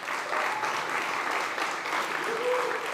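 A conference audience at a food event applauds, producing an even, continuous wash of clapping at moderate distance, with faint speech mixed in.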